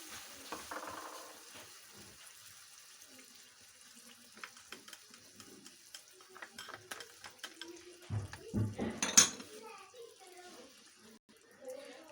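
Tomatoes and yogurt dropped into frying masala for Afghani baingan, a faint low sizzle with scattered clinks and a louder burst of splattering and stirring midway, with someone speaking over parts of it.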